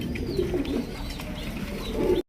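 Pigeons, including rare-coloured fancy pigeons on a breeding farm, coo continuously up close, low throaty burbling calls overlapping one another, with no talking.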